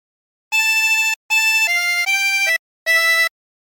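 A 16-hole tremolo harmonica plays a short phrase of The Wellerman in four bright, wavering notes and chords, close and clear, with short gaps between them and no talk.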